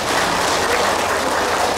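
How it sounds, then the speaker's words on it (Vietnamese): An audience at a Buddhist dharma talk breaks into loud, dense, sustained applause, many hands clapping steadily all the way through, close and full. "Vỗ tay."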